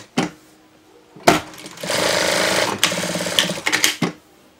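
An overlock sewing machine stitches fleece for a dog sweatshirt, a close loud rapid mechanical whir running for about two seconds with brief stops and restarts, framed by short knocks and handling sounds.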